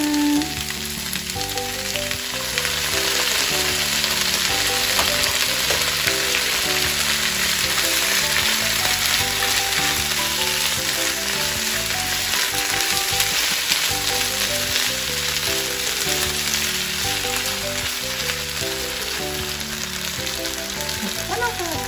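Komatsuna and egg stir-fry with cooking sake sizzling loudly in a hot pan, a dense continuous crackle and hiss over roughly twenty seconds, with occasional stirring and no talk over it.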